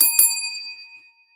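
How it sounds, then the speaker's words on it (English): A single bell struck once, ringing out clear and bright with a sustained tone that slowly fades over about a second, heard alone without talk. "Hit the bell for myself."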